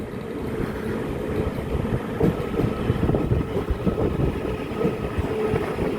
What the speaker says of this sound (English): I think that's the train coming in now